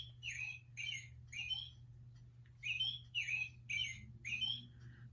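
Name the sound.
American Robin song, played recording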